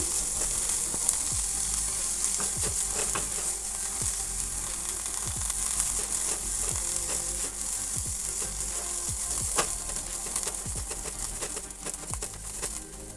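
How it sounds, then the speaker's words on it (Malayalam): Onions and coriander sautéing in a frying pan, giving a constant hiss of sizzling oil with regular spatula scrapes and taps throughout, close and alone. "ഒരു തണ്ട് മല്ലിയിലയും കൂടെ ഇട്ട് കൊടുക്കാം എന്നിട്ട് ഒന്നും കൂടെ ഒന്ന് വഴറ്റിയെടുക്കാം"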